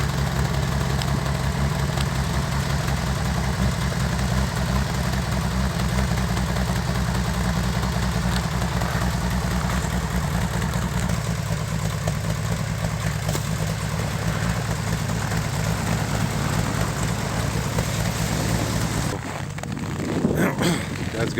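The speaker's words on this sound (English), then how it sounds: "So that's just going to keep this fired up maybe for the next little bit here, just so the oil can get through the engine" A 1961 Bombardier narrow gauge engine idles steadily after a cold start in snowy conditions, a loud, continuous low rumble with vibration that holds evenly for about twenty seconds before slightly dropping near the end.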